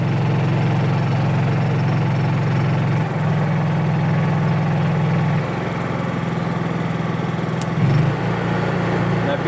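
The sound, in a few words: Honda EU3000is generator idling on eco throttle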